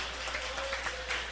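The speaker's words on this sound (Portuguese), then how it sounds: "podem bater palmas e dar glórias a Deus" Faint, steady clapping from a church congregation during a Portuguese-language service, a soft diffuse patter of many hands with a low hum behind it.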